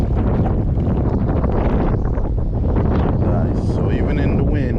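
Wind buffets a fishing boat out on the water during bass fishing, a loud continuous rush and rumble of gusts hitting the microphone, with a person talking through part of it.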